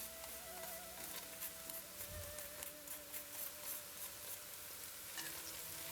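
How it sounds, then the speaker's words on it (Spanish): Crushed garlic with white and black pepper fries in a pan, a steady soft sizzle with faint crackles and occasional stirring, no one talking. "Y lo vamos a sofreír todo bien."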